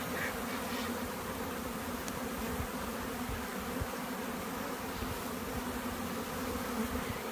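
Honeybees buzzing around a hive, a dense continuous droning hum from many bees close by, steady in loudness throughout with no pauses.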